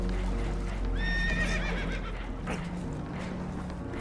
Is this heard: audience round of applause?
no